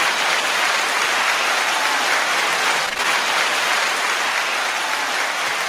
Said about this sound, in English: Let's give a round of applause for ourselves